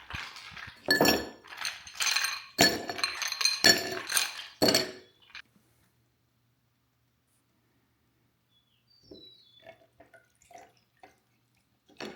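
A glass is stirred and filled while making a drink from Starbucks Refresher concentrate: several loud, close clinks and clatters come in quick succession, then quiet, followed by faint small taps and drips.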